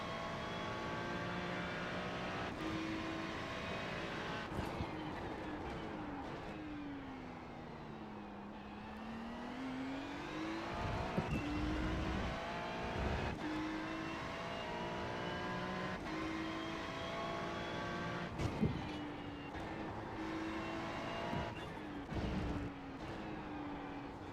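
Race cars roar around the Algarve International Circuit in the iRacing sim, a Ferrari 296 GT3 engine rising and falling through gear changes with a Porsche closing in behind, a continuous loud drone with sharp shift cuts and no talking.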